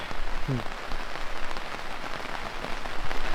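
Steady rain patters on a greenhouse in a dense, even hiss of countless drops that continues without pause, with slightly louder individual taps scattered throughout.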